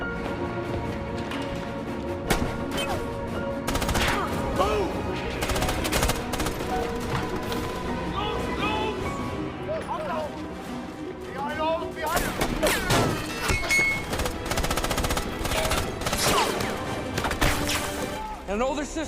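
Bursts of gunfire and rapid volleys crackle through a long battle in a World War II film, dense and irregular over a loud mix of other noise.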